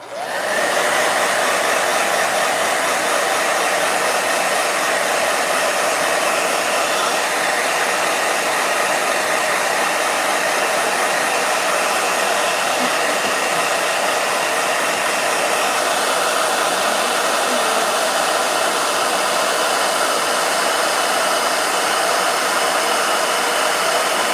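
A hair dryer runs steadily and close by, giving a loud, unbroken high whir with an airy blowing hiss and no pauses.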